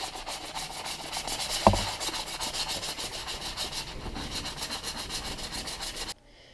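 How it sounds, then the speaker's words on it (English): Rhythmic back-and-forth rubbing of a sanding block on a sandblasted wheel rim, brisk, even strokes close up, with one sharp knock partway through. "got a little sanding block, and I'm just gonna give everything a nice sand"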